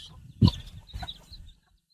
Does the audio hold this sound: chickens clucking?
yes